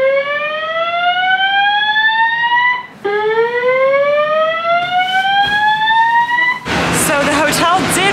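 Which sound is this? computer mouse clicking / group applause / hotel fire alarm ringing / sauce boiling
hotel fire alarm ringing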